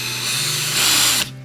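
Cordless drill with 50 Nm of torque and a variable speed trigger, running steadily with a whining motor hum that rises in pitch partway through, then cuts off near the end; close and loud, no talk.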